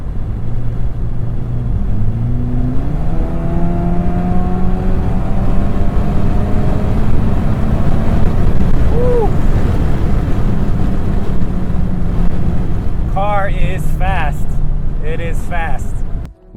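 An APR Stage 3 tuned VW GTI with a DSG transmission accelerates on the road, its engine note rising through the gears under heavy road and wind rumble. A voice and brief chirps come near the end.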